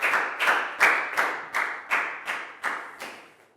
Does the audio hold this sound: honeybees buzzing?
no